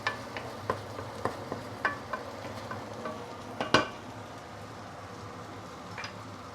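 Maggi mee goreng instant noodles are stirred in a hot pan: a utensil scrapes and taps against the metal in a quick series, then the clatter eases into a low, steady sizzle.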